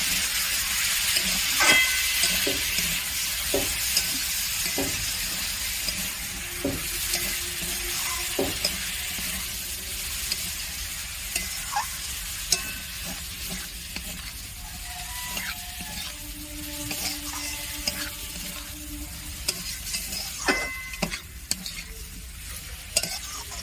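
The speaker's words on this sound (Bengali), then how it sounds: "দিয়ে দেবো কেটে রাখা শিক ছাতুগুলো দিয়ে দিলাম। ভালো করে কষিয়ে নেব।" Chopped shikh chhatu mushrooms fry in oil in a Bengali-style dish. A continuous hissing sizzle runs beneath repeated scraping and knocking of a spatula as they are stirred, close and moderately loud, with no talking.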